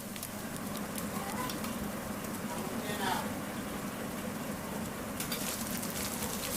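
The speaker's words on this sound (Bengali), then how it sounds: "এবার মশলাটা কিছুক্ষণ ভেজে নেব, যাতে করে এর কাঁচা গন্ধটা চলে যায়।" Spice paste frying in a pan while cooking chicken roast, a steady broadband sizzle with faint stirring scrapes running continuously at moderate level.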